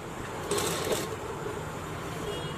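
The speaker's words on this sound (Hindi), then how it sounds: "बिल्कुल किनारे किनारे सिलाई लगा रहा हूँ" A sewing machine runs steadily as it stitches along the elastic edge of a circle blouse, or poncho, giving a continuous close mechanical whir with a slight surge midway and no pauses.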